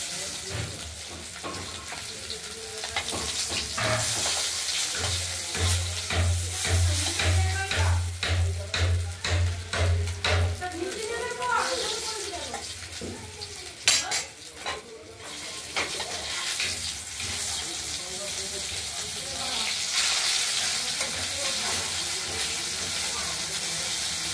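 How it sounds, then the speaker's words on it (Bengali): Rohu fish pieces frying in oil in a pan for a fish curry, with a steady sizzle running throughout, stirring and lifting noises on top, and a low rhythmic rumble partway through; speech is faint or absent. "মাছগুলো ভাজা হয়ে গেছে। এক এক করে"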